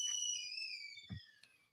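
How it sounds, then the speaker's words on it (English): A whistling teapot sounds from downstairs as a steady, high, shrill tone that slides slightly in pitch. A couple of soft knocks and clunks come from nearby, and nobody speaks. "You guys are gonna hear like a whistling sound. My daughter is downstairs using the teapot"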